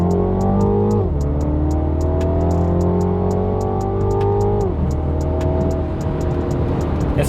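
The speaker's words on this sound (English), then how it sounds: "right now you can hear the blow-off sounds. So we now go through the gears." A MINI F56 John Cooper Works with a turbocharged engine pulls hard through the gears, its engine note climbing steadily and then dropping sharply at each upshift, heard loud from inside the car with repeated sharp clicks throughout.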